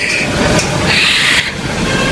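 A passing train on a railway crossing rumbles loudly and continuously, with high metallic wheel squeal rising over the steady roar close by.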